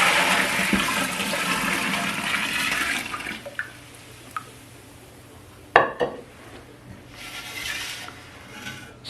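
Homemade stock pours in a loud continuous gush for about three seconds into a batch. Sparse clinks and knocks of pots and utensils follow at close range, with a brief splash near the middle and no talking.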